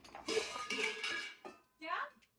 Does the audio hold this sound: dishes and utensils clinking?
yes